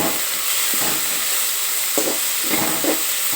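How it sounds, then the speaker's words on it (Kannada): Chopped cabbage hits a hot pan for fenugreek-leaf rice, giving a steady, close hiss of sizzling with a few soft stirring scrapes and no talk. "ಆ ಒಂದು ಕ್ಯಾಬೇಜನ್ನು ಇದಕ್ಕೆ ಹಾಕ್ತಾಯಿದ್ದೀನಿ"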